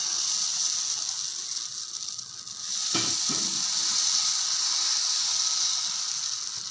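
Rava adai batter hits a hot pan with a soft splat and then sizzles continuously, a steady close hiss throughout with no talking.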